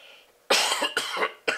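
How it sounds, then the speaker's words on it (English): A few harsh coughs in quick succession, close and loud, following a brief faint breath. "the coughing does not help"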